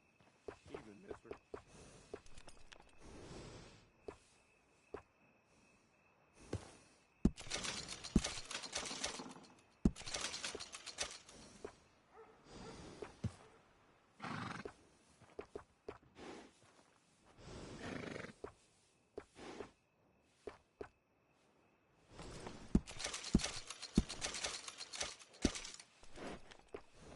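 Horse sounds in the video game Red Dead Redemption 2: bursts of neighing and hoof movement come and go between quiet gaps, mixed with game effects and spoken dialogue.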